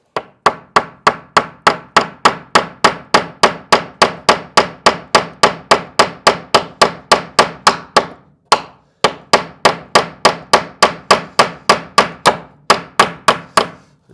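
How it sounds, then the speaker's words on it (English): Loud, sharp hammer blows drive a nail into wood without a pilot hole, through a knot, in a fast, steady rhythm, pausing briefly twice before the pounding resumes. "I'm going to attempt to put a nail in here without drilling it."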